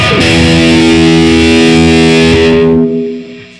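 An electric guitar on its amp's lead channel, boosted by a Tube Screamer pedal set as a clean boost, rings out as one loud, thick distorted chord that sustains for nearly three seconds, then fades quickly.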